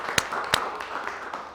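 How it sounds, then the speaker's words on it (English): A few scattered hand claps from a small audience at a business talk event, with two sharp, distinct claps early and lighter, sparse clapping after, fairly quiet overall. "So like round of applause for Nathan."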